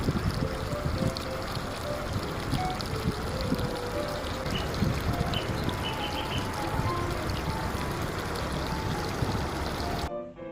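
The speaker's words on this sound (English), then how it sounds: "All the background noise is the sound of the engine of the speedboat" A speedboat engine drones loudly and continuously on Thane Creek, mixed with rushing wind buffeting the microphone, before cutting off abruptly at the end.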